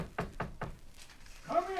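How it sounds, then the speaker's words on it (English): Three firm knocks on a bedroom door, evenly spaced and fairly close, followed by a brief vocal sound just after the knocking ends. "suddenly there was a knock on the door."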